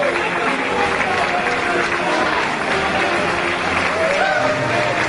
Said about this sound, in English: As the Bravados hear it from this Maryland crowd